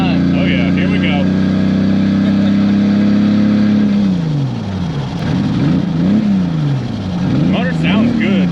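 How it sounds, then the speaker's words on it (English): A Mercedes-Benz carrying a swapped-in Toyota Supra engine and six-speed manual runs loud and close, holding a steady drone before dropping and wavering through several rev rises and falls. "The motor sounds good."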